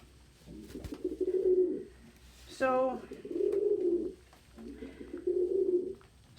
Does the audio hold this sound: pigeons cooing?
yes